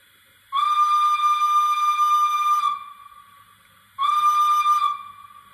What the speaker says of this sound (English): So here is a whistle, a long whistle.